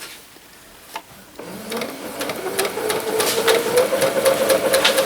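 A sewing machine hems the neckline of a simple blouse, starting with a few faint clicks before the motor whirs into a steady, close, rising stitching hum.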